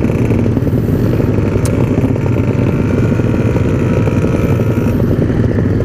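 A Yamaha RX King motorcycle engine revs loud and close, its dense two-stroke rasp and exhaust rattle holding steady for the whole span with no speech.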